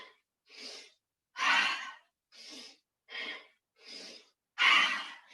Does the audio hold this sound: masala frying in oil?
no